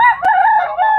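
A rooster, one of a yard of quality gamefowl, lets out a single short, loud crow close by, with a brief break in the middle.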